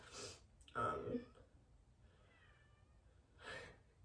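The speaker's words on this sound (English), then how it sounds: "Sorry, my cats." Pet cats meow indoors during a stretching session, a couple of close, moderately loud calls with a softer mew between, and a voice briefly in the background.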